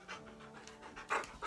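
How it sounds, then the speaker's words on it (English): A pet dog pants quietly close by, a soft steady rhythm of quick breaths with a slightly stronger puff near the end. "This is my dog"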